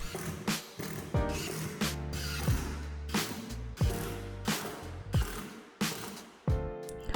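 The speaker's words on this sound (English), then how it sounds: "we started screwing all the panels into place" Power drill driving screws into subfloor panels: a series of about eight loud whirring bursts, each ending in a low grinding bind, close by and regularly spaced with short pauses between.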